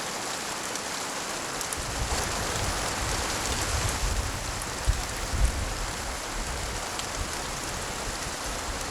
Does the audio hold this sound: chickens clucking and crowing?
no